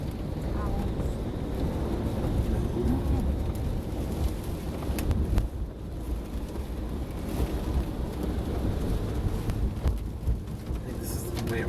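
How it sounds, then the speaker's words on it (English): Rain falls in Hawaii as a continuous broadband hiss mixed with wind buffeting the microphone, steady for the whole stretch, with people talking intermittently. "I think this is the way it rains here a lot."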